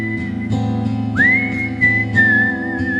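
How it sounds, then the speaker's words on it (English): A person whistles a melody in clear, sustained tones that rise and hold, over a steady low background hum, with no talking. "and then I whistled the melody"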